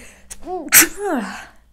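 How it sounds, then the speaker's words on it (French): A single sharp sneeze bursts out between brief breathy vocal sounds, close and loud. "Excusez-moi, je fais que éternuer."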